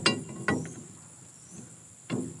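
A crowbar levers against the blade pan of a rotary mower, giving a few sharp metallic clanks and scrapes spaced apart with quieter gaps between, close by.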